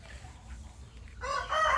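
A rooster crows on a free-range farm with young Burmese chickens. The single crow rises fairly loud near the end over a quiet rustling background.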